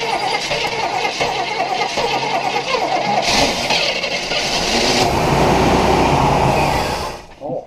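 Barn find 1976 Chevrolet Impala engine cranking, catching and running rough, a loud uneven rumble that builds and holds before cutting off near the end, with voices talking over it.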